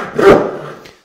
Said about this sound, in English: using a turning saw is no different than using a regular saw